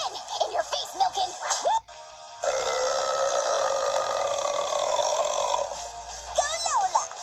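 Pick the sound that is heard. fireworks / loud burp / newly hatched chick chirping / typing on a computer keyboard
loud burp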